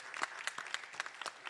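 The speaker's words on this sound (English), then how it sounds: "Give her a round of applause." An audience at a justice symposium gives a short round of applause, heard as faint, quick clapping with fairly regular sharp claps, some distance away.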